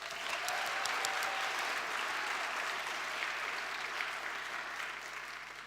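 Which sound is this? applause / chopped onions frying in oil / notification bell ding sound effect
applause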